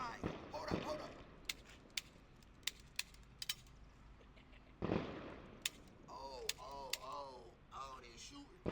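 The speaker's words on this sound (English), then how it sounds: "Oh shit, we got gunfire." Sharp, isolated cracks of gunfire pop at irregular intervals, fairly distant, while people talk over them.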